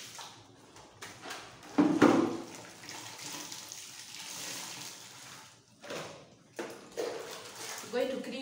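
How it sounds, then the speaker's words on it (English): Water splashing and trickling as clean water is poured to rinse a tiled shower floor, with intermittent bursts of sloshing and dripping, heard close up while a voice talks over it. "I'm going to rinse my floor with the clean water."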